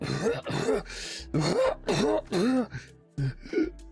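A person coughs and clears their throat repeatedly in short, harsh bursts, close and loud, with strained breaths between.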